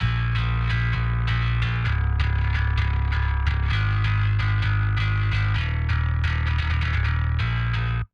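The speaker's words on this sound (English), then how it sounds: "controlling the sort of pick attack noise and razor bladey sort of harshness that can happen from compressing punk bass and then giving it a bit of distortion" Punk bass guitar riff run through compression, distortion and Soothe processing plays steadily and loudly throughout, a gritty, saturated tone with a clear repeating pick attack.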